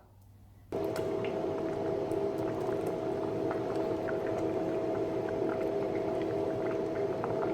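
Kuzhambu gravy boils steadily in a pot with ground spice powder stirred in, a continuous close bubbling hiss with a low hum beneath, starting abruptly and running on without talk.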